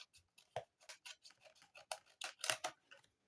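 Scissors snip small triangles off paper in a quiet run of about a dozen short, crisp cuts, close and irregularly spaced, with no one talking.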